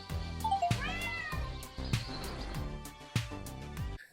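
Cartoon cats meow in the Hidden Cats in Berlin video game, several short, bright mews over a bouncy looping game tune with regular percussive taps.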